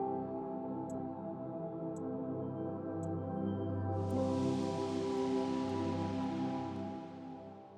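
Feedback sounds from the Muse breath meditation app when breathing consistently matches the guide: a sustained ambient tonal drone with soft ticks, later joined by a brighter airy wash, steady and alone with no talking.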